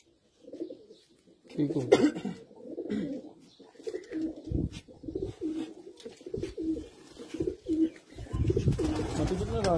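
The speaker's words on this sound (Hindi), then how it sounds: "ये हमारे गोल्डन दुमचीर कबूतर माशाल्लाह जी" Golden dumchir pigeons coo in low, rolling throaty bursts, fairly close and continuous, while someone speaks briefly over them.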